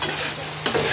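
Crumbled idli is stirred and fried in a hot pan, a dense close sizzle with a brief scraping stir partway through, no speech.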